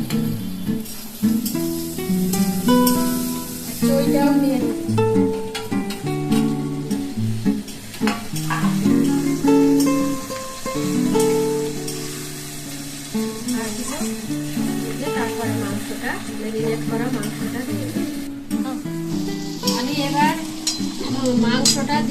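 Ginger paste fries in oil in a kadai for tel murgi, a loud close sizzle stirred repeatedly with scraping strokes, with a tonal background underneath throughout.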